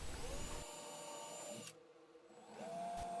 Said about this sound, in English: I used this to pre-drill small mounting holes from the inside out.